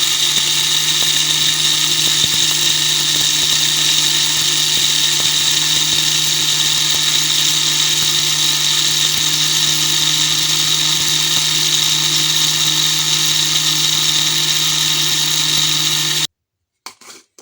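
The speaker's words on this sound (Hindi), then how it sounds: "मसाला हमने ग्राइंड किया है" An electric spice grinder whirs steadily at high speed while grinding garam masala, a loud, unbroken motor whine lasting about sixteen seconds before it cuts off abruptly.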